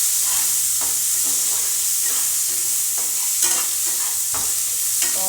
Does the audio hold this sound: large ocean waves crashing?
no